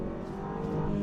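A 2022 BMW X3 compact luxury SUV accelerating hard from around 50 mph, its engine giving a steady, droning hum heard from inside the cabin without pause.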